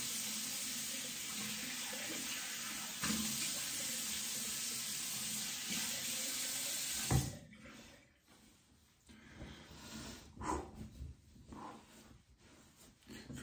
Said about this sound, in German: Dann auch hier wieder Gesicht abspülen